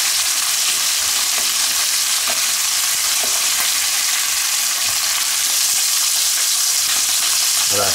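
Lamb pieces searing on all sides in a hot pan for a sorrel lamb sauté, a loud continuous sizzle with scattered stirring taps, no voices.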